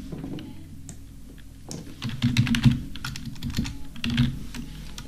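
Typing on a computer keyboard: bursts of close, crisp key clicks in uneven runs, with short pauses between them.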